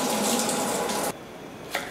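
Fresh produce is rinsed under a running kitchen tap, a steady close gush of water that cuts off abruptly partway through and is followed by a brief splash.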